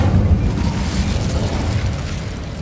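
A fiery spell burst from the Hogwarts Legacy video game roars out in a dense, loud, low rumbling blast that holds steady for a couple of seconds with no voices over it.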